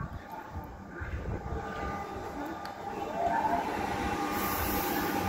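A three-car Melbourne suburban train rumbles past at a station, a steady low roar that builds slightly toward the end, with faint squeals and clicks above it.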